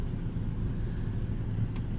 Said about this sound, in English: It's sitting here idling in park with the air conditioner on.